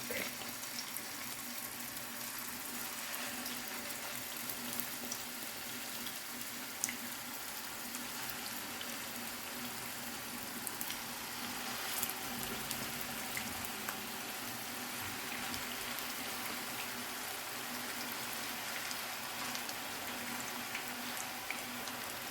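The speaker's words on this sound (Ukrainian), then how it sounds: "Нагрілася сковорідка, котлетки вже зроблені і буду викладати, щоб смажилися." Soft, continuous sizzling crackle of chicken cutlets frying in a pan, steady and low in level, with no voices.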